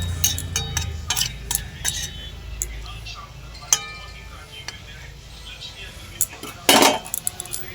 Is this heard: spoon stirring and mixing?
yes